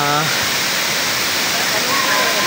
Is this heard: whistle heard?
no